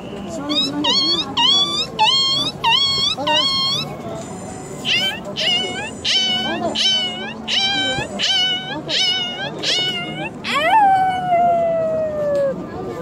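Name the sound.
girl imitating a puppy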